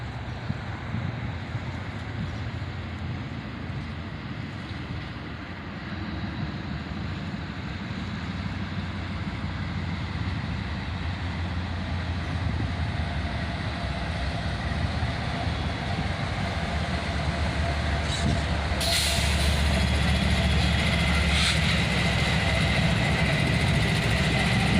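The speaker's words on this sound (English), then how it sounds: "There's another CSX train coming right up behind him, hot on his heels." A slow CSX intermodal freight train approaches, a low rumbling diesel drone that builds steadily and grows louder and nearer over about twenty-five seconds, with a brief squeal near the end.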